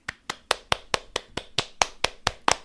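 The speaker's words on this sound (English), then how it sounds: "I'm clapping for myself." One person claps alone, about eleven sharp, evenly spaced claps at a steady rhythm, close and crisp, with no voices.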